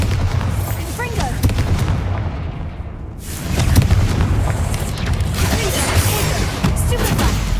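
Spell explosions from the Bombarda and Confringo attacks in the Hogwarts Legacy video game, repeated heavy booms and crackling blasts over a dense battle din, with a brief lull before another loud impact.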